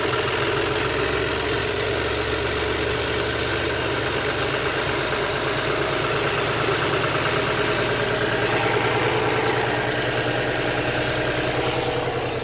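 A modified tractor engine runs steadily throughout, with a loud, continuous low rumble and a knocking idle rhythm, close by and without talk.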